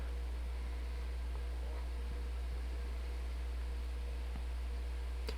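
A 2024 ASUS Zenbook S16 laptop with a Ryzen AI HX processor runs its cooling fan at full load, giving a steady, faint, even airy whoosh with a low hum underneath and a few soft clicks.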